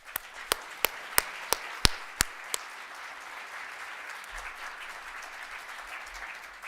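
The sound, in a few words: audience applause welcoming a speaker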